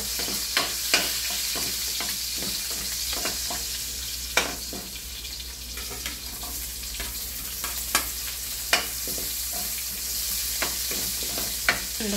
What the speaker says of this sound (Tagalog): At magigisa muna ako ng sibuyas at bawang.